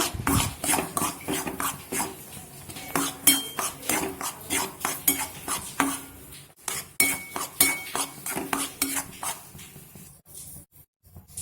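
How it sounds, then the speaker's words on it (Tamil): Ground biscuit powder is stirred and sautéed in ghee, with a spoon scraping and clinking against the pan in quick, repeated strokes, close and fairly loud, easing toward the end. "அதே நெய்யில் அரைச்சி வச்சிருக்க பிஸ்கெட் பவுடர் எடுத்து போடுங்க. நல்லா வதக்கிக்கோங்க."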